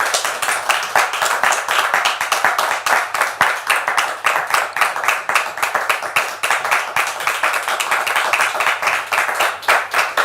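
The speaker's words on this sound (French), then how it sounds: "je voudrais qu'on le reçoive avec applaudissements" A studio audience at a French-language Christian talk show welcomes a guest with loud, close, rhythmic clapping, many hands beating together in an even, sustained pulse for ten seconds.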